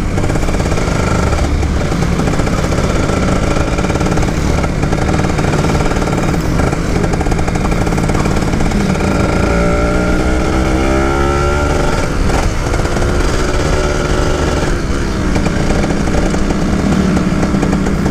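A two-stroke motorcycle engine runs continuously with a loud buzzing rasp, revving up and down close by through the whole stretch, with no talking.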